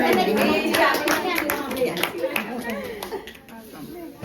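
Hands clap in a lively household gathering, a burst of close, uneven claps mixed with chatter and voices of children and adults.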